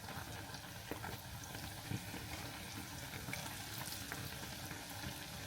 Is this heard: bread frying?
yes